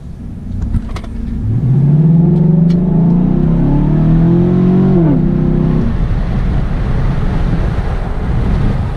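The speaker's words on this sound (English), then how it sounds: "it definitely sounds a little more mean than the stock one" A Chevy Silverado fitted with an aftermarket intake accelerates hard from low speed with the windows down, its engine note rising steadily in pitch over several seconds, then easing off amid loud wind buffeting and road rumble.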